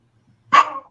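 A chihuahua lets out a single sharp, high-pitched bark that trails off into a brief whiny tail, heard fairly close against an otherwise quiet room.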